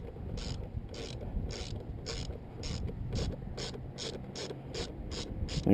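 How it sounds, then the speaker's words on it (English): A ratchet loosens the rear brake caliper bolt on a Honda CBR 600 F4i sportbike, giving about a dozen evenly spaced, crisp clicks close by over low background noise, with no talking. "loosen the caliper bolt."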